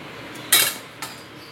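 Mango pieces dropped into a metal wok, giving one sharp clatter followed a moment later by a softer second knock, in an otherwise quiet kitchen.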